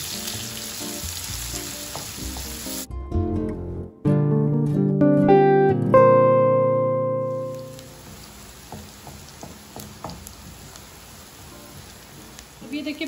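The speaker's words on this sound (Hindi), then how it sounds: "प्याज तो लाल होने तक इसको फ्राई करेंगे अच्छे से।" Onions fry in a pan with spices including fennel seeds, a crackling sizzle that gives way midway to a short tonal musical passage before the quieter sizzling returns.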